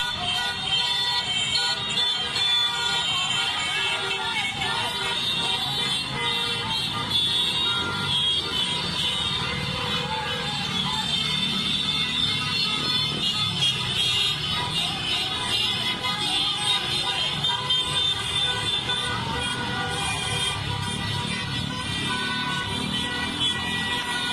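Car horns blare together in a noise barrage protest, a dense, continuous mix of honks and traffic at a steady level with no let-up.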